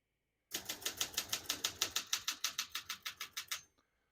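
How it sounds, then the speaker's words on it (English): Rapid keystrokes on a 1966 Olympia SM9 portable typewriter, about eighteen crisp clacks in a steady, even rhythm, close and fairly loud with nothing else heard, ending in a brief pause. "I'm going to keep that on single for now and finish typing"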